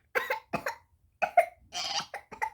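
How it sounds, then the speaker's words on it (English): Several coughs in short bursts, close and fairly soft, with pauses between groups and a longer harsher cough near the end. "Don't cough all over my stuff."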